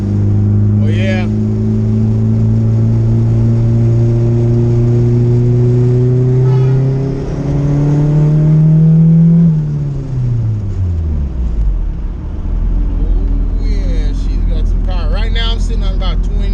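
A turbocharged Honda Civic on a stock sleeve pulls hard with its remote exhaust cutout open, engine note climbing loudly for several seconds before dropping and settling back into a low rumble as a person speaks.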